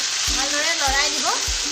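Bhedai lata vine frying with onions in a pan, a steady hiss of sizzling oil with the utensil scraping through the pan about three times in an even rhythm.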